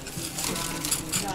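Ice cubes clink and rattle against a glass as it is swirled to chill it for a classic champagne cocktail, a steady close jingle running throughout.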